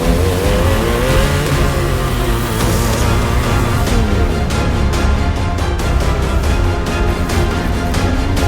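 A drag racing motorcycle prototype at a sprint event accelerates hard, its engine roaring loudly and continuously with rising, shifting harmonics and rapid rhythmic pulses toward the end, no voices.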